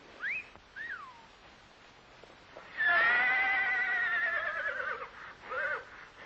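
A horse whinnies several times: two short calls, then a long, loud, wavering neigh, followed by a brief final whinny.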